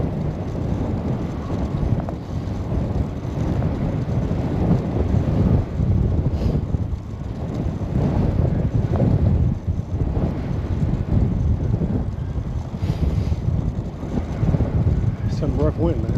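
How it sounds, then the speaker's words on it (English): Rough, cold wind buffets a microphone during a bike ride, a loud continuous low roar and rumble that fills the whole stretch, with someone talking over it. "Some rough wind"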